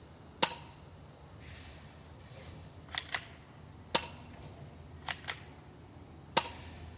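A manual mag-fed Glock G19 replica blaster fires single sharp snapping shots outdoors at about 14 meters, six or so spaced pops over several seconds with quiet gaps between them.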